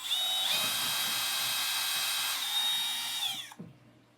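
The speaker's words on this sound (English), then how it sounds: "my drill press scares me a little bit" A drill press bores into wood with a steady high-pitched whine that holds for about three seconds, briefly dips mid-cut, then cuts off abruptly and leaves near silence.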